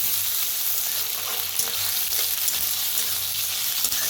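Potatoes roasting with onions in a pan give off a steady, loud, close sizzle that holds evenly throughout, with a few faint stirring scrapes and no voices.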